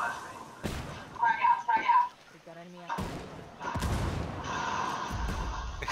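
Grenade explosions in the first-person shooter Ghost Recon Wildlands, a run of thuds and booms mixed with gunfire, fairly close, with players talking over the action.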